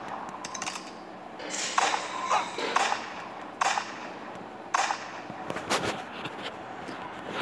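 Pistol shots in the western shooter game Old West Gunfighter, several sharp, separate cracks with metallic pings, spaced a second or so apart, then a quick cluster of clicks near the end, fairly quiet overall.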